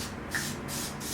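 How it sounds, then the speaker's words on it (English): Olive oil cooking spray hisses into muffin tins in a kitchen, three or four short close bursts of spray in quick succession with no talking. "I'm gonna spray"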